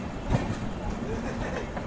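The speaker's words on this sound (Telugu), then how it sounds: "కోకోనట్ ఎక్స్ప్రెస్ అయితే మన ట్రైన్ అయితే ఓవర్టేక్ చేసి వెళ్ళిపోతుంది." Coconut Superfast Express train rumbling past alongside a moving train, a steady broad roar with faint rail clatter, heard from inside the overtaken carriage.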